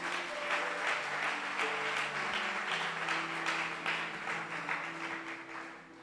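A church congregation at a youth department launch bursts into sustained applause, a dense, even wash of clapping over a soft sustained musical tone that tapers off toward the end.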